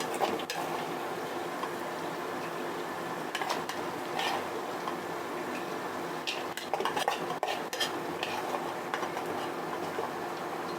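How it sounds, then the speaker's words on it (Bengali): Mung dal goes into spiced chicken in a pan, bringing scattered metallic clinks and scrapes of a utensil against cookware over a steady low background hiss, with no speech. "তো মশলাটাকে কিছুক্ষণ কষানোর পরে আমি এখানে ডাল দিয়ে দিচ্ছি।"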